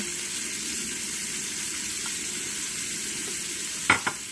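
Chopped onion sweats in a soup pot, a steady soft sizzle running throughout, with a couple of brief knocks of a utensil stirring near the end.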